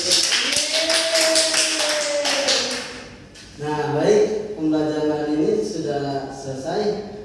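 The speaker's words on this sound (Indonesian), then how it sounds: "Ayo buat teman-teman boleh dikasih aplaus dulu" Students in a classroom break into dense, steady applause that lasts about three seconds, then give way to a chorus of children's voices speaking together, loud and close.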